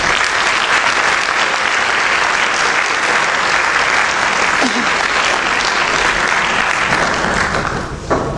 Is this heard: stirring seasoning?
no